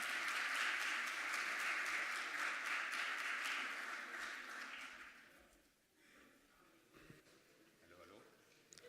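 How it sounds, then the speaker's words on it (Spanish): Applause from an audience at a Chilean candidates' forum on culture and the creative economy, loud and steady at first, then thinning out and fading into a quieter room. "así que un aplauso también para él."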